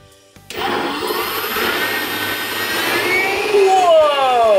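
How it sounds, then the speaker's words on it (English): Blender whirring loudly as it mixes rainbow ice cream ingredients, starting abruptly and running steadily, its motor pitch rising and shifting toward the end. "Yes, with a blender. Oh, and Andrea, this is a blender"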